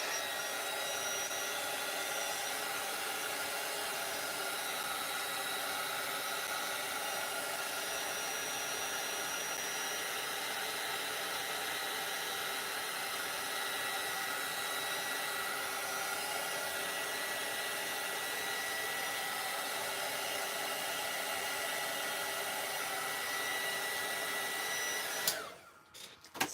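A hair dryer blowing on a drying Caran d'Ache Neocolor II self-portrait painting: a steady, close whooshing drone running continuously, then switching off abruptly at the end.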